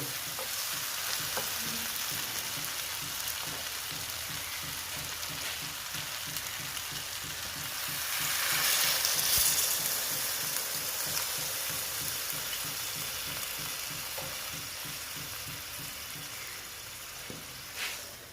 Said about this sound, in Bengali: এখন আমি এখানে জল দেব।